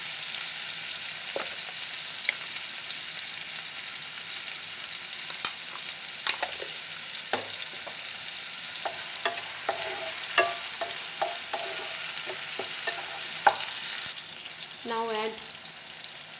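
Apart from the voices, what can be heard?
frying red lentil masala in pan with salt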